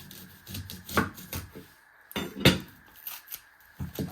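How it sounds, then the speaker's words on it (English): A knife chopping the end off an onion on a cutting board: several crisp, irregular knocks of the blade, some with a slight clatter. The knocks are close and distinct, with short pauses between them and no talking. "I first chop my end off"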